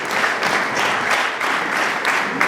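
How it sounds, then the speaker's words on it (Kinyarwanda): A wedding crowd claps together in lively applause, a dense, rhythmic clatter of many hands rising and falling in brief waves, loud and close, with no voices. "Amashyi menshi kuri data ushobora byose."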